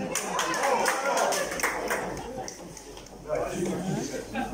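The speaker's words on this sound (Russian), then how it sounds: "Итак, аплодисменты!" Applause from an audience at a March 8 party dance battle, a dense crackle of clapping that carries across the whole stretch, with a crowd voice and some talk mixed in.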